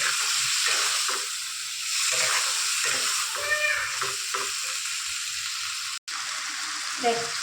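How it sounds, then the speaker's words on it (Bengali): Pointed gourd, potato and prawns fry and get stirred in a pan, a steady broadband sizzle with scraping stir sounds throughout, a voice murmuring faintly underneath at times and a brief dropout near the end. "পটল আলু আর চিংড়িটা দিয়ে একটু নেড়ে চেড়ে হালকা ভেজে দেবো।"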